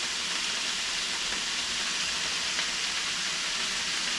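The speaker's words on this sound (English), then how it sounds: "You can hear it sizzling." Steady, bright sizzling hiss of pineapple frying in a hot pan, continuous and close, with no voices.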